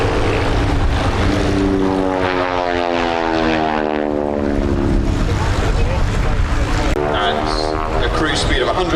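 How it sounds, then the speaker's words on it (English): North American Yale propeller aircraft passing at an airshow, a loud droning engine with a harsh rasp from supersonic prop tips, pitch sweeping down as it goes by, with a voice talking over it. "So right at the tip of the propeller, going supersonic, and that's what that rasp noise is."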